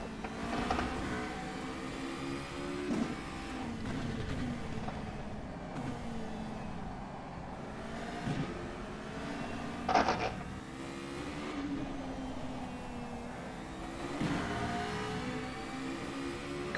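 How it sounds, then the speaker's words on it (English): A Formula Renault 3.5 racing car in rFactor 2 around Spa-Francorchamps, its engine droning steadily with rising and falling pitch through gear changes and braking, with a brief sharp burst near the middle. "Comparing the sound of both cars"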